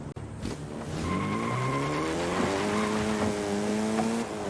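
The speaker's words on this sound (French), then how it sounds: "En vrai, cette voiture, elle drift un peu" A car drifting in a racing video game: a rising engine whine over a steady, loud bed of tire squeal and skidding that lasts the whole stretch, with no speech.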